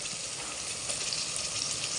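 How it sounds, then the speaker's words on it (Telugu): Mutton dropped into hot tempering with onion and green chilli in a pressure cooker, giving a loud, dense, continuous sizzle with no talk. "కుక్కర్లో తాలింపులో వేసేసుకుంటున్నాను"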